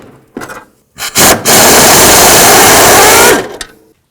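Power tool loosening the battery tray mounting bolts on a 1994-2004 Chevy S-10, a few short bursts and then one loud, sustained whirring run lasting about two seconds, close up with no talking.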